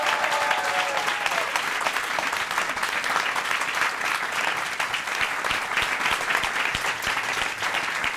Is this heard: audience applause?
yes